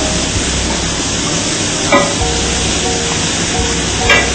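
Soy sauce-based stir-fry sauce for chicken noodles sizzles and bubbles steadily in a hot pan, a loud continuous frying hiss with two brief louder spits, no talking.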